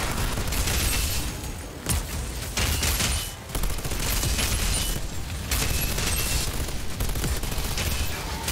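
Rapid submachine gun fire in the video game Outriders, loud and near, coming in dense sustained bursts with only short breaks between them.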